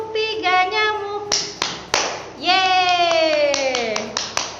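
Children and an adult clap along to a mosquito clapping song in a classroom lesson, with sharp hand claps landing between stretches of sung chanting voices.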